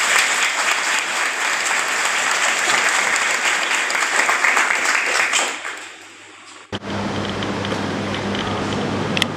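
An audience at a spoken talk breaks into sustained applause, dense and loud clapping for several seconds that fades out before a brief lower-toned noise takes over.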